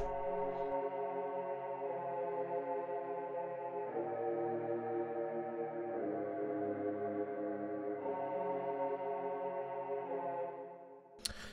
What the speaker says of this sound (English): it's just a male choir, and that sounds like this.